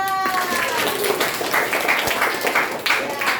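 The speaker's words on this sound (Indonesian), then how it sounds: "Ya, Bapak tepuk tangan untuk kelompok 3." A classroom of students claps for a presenting group, lively close applause from many hands running throughout, with a brief voice and faint tones at the very start.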